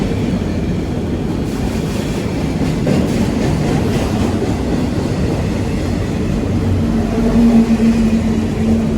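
Freight train rolling out of a rail siding at Laurier Station, a steady rumble of wagons with faint clickety-clack passing nearby, a low drone building slightly toward the end.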